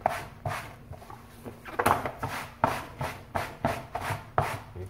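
Loose dirt is knocked off a carpet mat in a series of about eight sharp, close slapping knocks at an irregular rhythm, each followed by a short rustle, with no talking.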